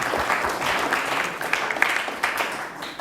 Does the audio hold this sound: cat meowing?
no